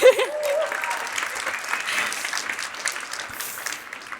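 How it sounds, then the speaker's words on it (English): An audience at a dental social media marketing talk breaks into a burst of clapping that starts sharply, stays fairly even and dense, then slowly eases over about four seconds. "Can I get a clap?"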